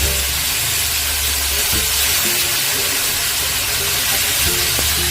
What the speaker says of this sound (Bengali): এবারে আর এক পিঠটা উল্টে দিয়ে ভেজে নেব।